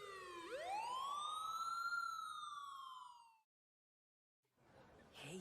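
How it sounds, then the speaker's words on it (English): A siren wails, rising then slowly falling in a long sweep, fairly close, before cutting off; after a pause a muffled noise starts up. "Kinda early to hear sirens like that."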